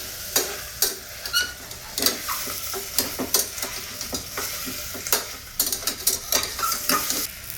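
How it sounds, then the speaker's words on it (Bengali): Paya soup being stirred in a pot, with repeated scraping and clinking strokes of a spoon against the metal, close and fairly loud over a soft sizzling bubble, no talking. "নুন দেওয়ার পরে এটাকে একটু ভালো করে নাড়তে হবে।"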